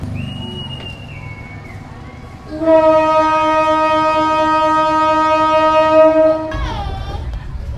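The Putri Deli passenger train hauled by a BB 203 diesel locomotive departs Lidah Tanah station, sounding a long, loud sustained horn blast over rumbling engine noise, then moving off with a lower continuous rumble.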